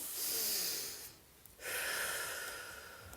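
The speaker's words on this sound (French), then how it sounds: "prendre une profonde respiration" A long, deep breath drawn in and then slowly released during a guided mindfulness meditation, close and audible, with a brief pause between the inhale and the exhale.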